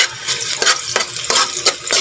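Garlic sizzles in a hot pan while being stirred, with a steady frying hiss broken by repeated scraping strokes of a utensil about every third of a second.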